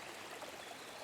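Water flowing in a stream at a jungle campsite, a faint, continuous trickling wash with no breaks or voices over its brief length.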